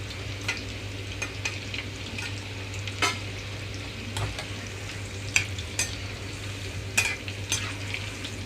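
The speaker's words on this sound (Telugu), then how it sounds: "నేను ఇక్కడ మీడియం ఫ్లేమ్లోనే ఉంచి వేయించుకుంటున్నానండి" Sweet corn and onion pakodi deep frying in oil over a medium flame, a steady close bubbling sizzle with occasional sharp crackles and stirring scrapes, no voices.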